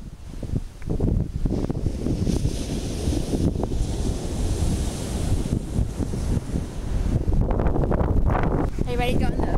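Ocean surf rolls steadily onto a beach, a loud continuous wash of breaking waves mixed with heavy wind buffeting on the microphone, with voices talking over it toward the end.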